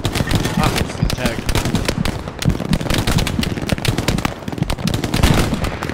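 Sustained automatic machine gun fire in a Hell Let Loose battle on the Carentan map, dense rapid bursts with overlapping shots and distant gunfire continuing for the whole stretch, loud and close, with faint voice chatter beneath.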